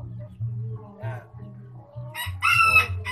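A Brahma rooster crows nearby, a short strained call rising over low clucking and murmuring birds, followed by a louder crow at the end.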